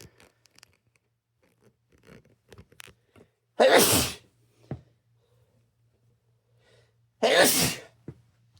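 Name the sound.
sneeze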